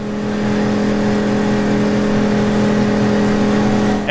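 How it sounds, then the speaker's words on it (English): A CAT INV2000 inverter generator revved up to power an air conditioner's 5K heat strip, a loud, constant engine hum with steady tonal drone, close and unbroken. "So the generator revved up,"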